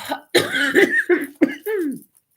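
A woman coughs in a quick series of four or five harsh, close bursts, the last trailing into a throaty rasp, then silence.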